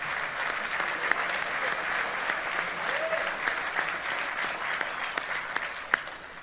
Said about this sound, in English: Round of applause for General Brown